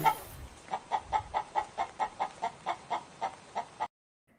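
A person imitates a chicken clucking with a steady run of about fifteen evenly spaced, loud, close clucks and no other voices, then stops abruptly.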